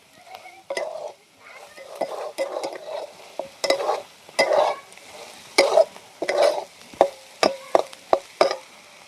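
Masala sautéed in a pan for stuffed capsicum (bharli dhobli mirchi) curry: a spoon scrapes and stirs in repeated bursts over a soft sizzle, with short metallic clinks against the pan, close and clear, no talking.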